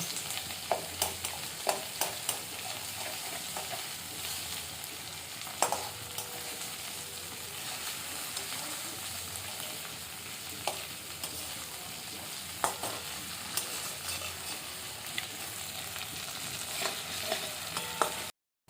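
Bhetki fish pieces being mixed by hand with Kashmiri chilli powder and turmeric, a soft continuous wet squishing and stirring with faint clicks, steady and close with no talking.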